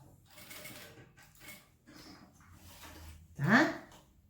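A sewing machine stitches a wallet in short bursts, with a louder whirring run near the end, while someone talks softly throughout.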